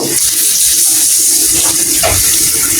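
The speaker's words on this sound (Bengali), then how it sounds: "আলুটা যাতে একটু সিদ্ধ হয়, এই জন্য আমি একটু পানি দিয়ে দিব।" Water poured into a pan of frying potatoes makes a loud, continuous rushing splash close by, a steady gush without pause for the whole moment.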